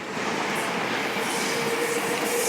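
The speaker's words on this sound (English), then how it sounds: "Oh, and there goes the Shinkansen. Bullet train" A Shinkansen bullet train rushes past in Japan, a loud, steady roar of rolling wheels and rushing air with faint squealing, sustained without break for a few seconds and heard close by without any talking.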